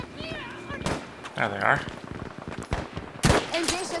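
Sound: gunfire in video game Battlefield V

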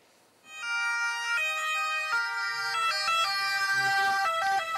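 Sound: ambulance siren

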